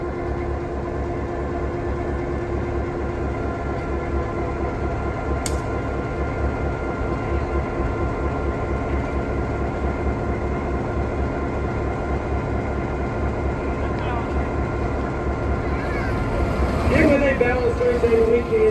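A steady, loud diesel locomotive engine rumbles continuously on a turntable, with a brief high squeal midway and a rising mechanical whine near the end.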